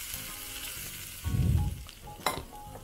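Hot vegetable oil is poured onto sambal matah, a raw chili relish, and it sizzles in a loud, sudden burst. The sizzle settles into quieter crackling, with a sharp pop near the end.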